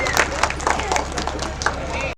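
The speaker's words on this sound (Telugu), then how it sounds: "ఒకసారి మనం గట్టిగా చప్పట్లు కొడదామా?" A church congregation applauds children who performed a Christmas skit, a crowd of clapping hands rising in scattered bursts over background murmur and talk.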